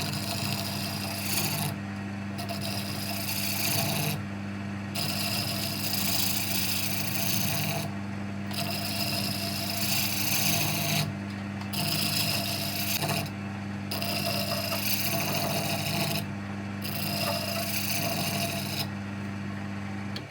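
A wood lathe tool cuts across the end grain of a spinning workpiece, leaving a rough finish. It makes a steady, loud rasping scrape that drops out briefly at regular intervals, with no talking.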